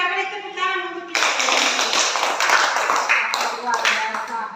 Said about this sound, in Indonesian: Oke, kita beri tepuk tangan untuk kita.